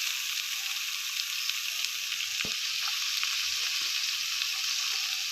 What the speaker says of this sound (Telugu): ఉల్లిపాయ సన్నగా తరిగిపెట్టి వేస్తున్నాను